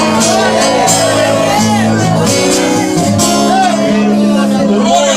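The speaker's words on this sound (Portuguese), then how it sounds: "Só quem crê, joga a mão para cima e dá um grito de glória" A church congregation at an Assembleia de Deus service raises a loud, sustained shout of glory to God, a dense crowd roar with overlapping voices and whoops filling the whole stretch.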